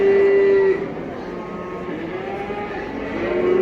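Male calves at the Taraz livestock market give a long, steady moo up close, then a second moo rises near the end over constant crowd murmur and engine noise.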